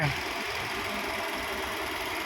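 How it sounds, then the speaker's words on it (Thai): A Nissan Almera 1.2E engine idles quietly and steadily up close, a smooth continuous hum with faint mechanical ticking and no revving, heard on its own without speech. "เครื่องยนต์เงียบมากๆเลยนิ่งๆเลย"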